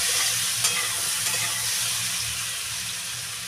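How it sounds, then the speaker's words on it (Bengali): Spices with cumin powder being stirred into vegetables in a pan, a steady close sizzle and frying hiss with soft scraping and a few light taps against the pan throughout. "ভালো করে মশলাটা এইভাবে মিশিয়ে নেব।"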